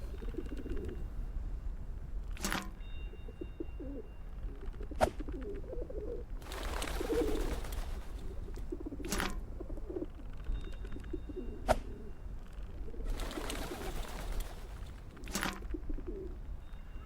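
Pigeons in the point-and-click adventure game Whateverland coo in soft, low, repeated phrases through the background, while occasional sharp clicks and brief hissy bursts recur alongside.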